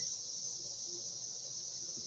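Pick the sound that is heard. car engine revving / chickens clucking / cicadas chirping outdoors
cicadas chirping outdoors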